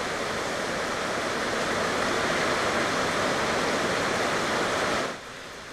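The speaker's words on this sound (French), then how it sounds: "Une bonne averse dehors." Heavy rain shower pours steadily outdoors, a dense, even hiss of falling water that holds constant for about five seconds before dropping off abruptly to a quieter background.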